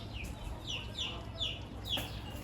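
A Brahma chicken held in someone's hands gives a run of short, repeated clucks, close and fairly quiet, about five calls in quick succession.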